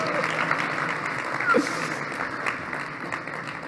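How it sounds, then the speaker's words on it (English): Audience applause fills a hall at the Xiaomi Mi A1 phone launch in New Delhi, a steady wash of clapping that swells briefly in the middle, with voices mixed in. "You can applaud, no problem"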